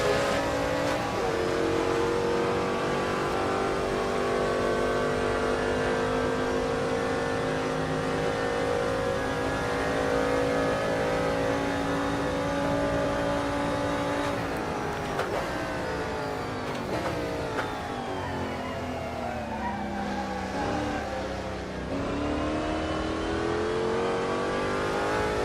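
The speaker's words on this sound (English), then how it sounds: "There goes the other Ferrari." Ferrari race car on the Kyalami circuit in a 1960s historic racing event, a loud, sustained high engine wail with harmonic tones that shifts pitch as it passes and changes gear near the end.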